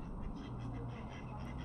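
Ducks on the Huddersfield Canal at Uppermill give a few soft, nearby quacks over a low outdoor rumble, brief and fairly faint.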